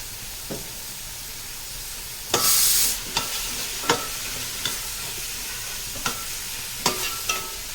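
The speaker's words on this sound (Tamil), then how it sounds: "இது எல்லாம் நல்லா கிண்டி விடணும்" Mutton biryani masala with tomatoes, coriander and mint stirred in a hot pot, a continuous sizzle broken by a burst of hissing steam and repeated scraping knocks of the ladle, no speech.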